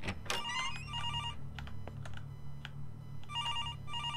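In the horror video game Araya, a telephone rings inside a haunted hospital room, with repeated electronic trilling bursts over a low steady ambient drone and a few faint clicks in between.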